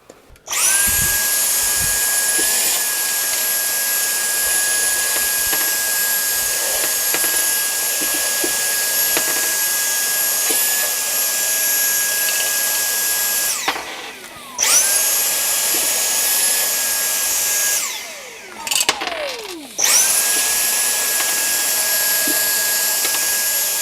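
Brigii H5 handheld vacuum cleaner, 140W, whining steadily and loudly as it sucks up screws, with brief cutoffs and restarts and rattles of the screws passing into the tank.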